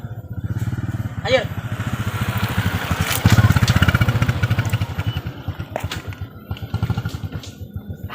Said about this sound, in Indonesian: Aya motor Jon.